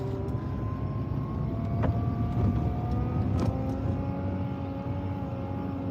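Car engine during a driving lesson, a steady close engine hum with faint whine tones running throughout, plus a couple of brief clicks, no talk.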